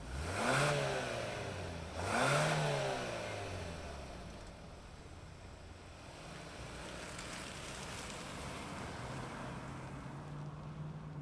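A 2024 Hyundai Santa Fe Limited SUV rumbles through two quick engine revs in the first seconds, then settles into a low, steady hum as it pulls away, heard from a short distance with no talk.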